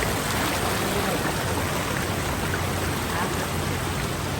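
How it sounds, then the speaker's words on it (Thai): Fast-flowing stream water near a waterfall in a national park rushes in a steady, dense, loud roar that fills the whole clip without a break. "น้ำไหลแรงมากๆเลยค่ะ"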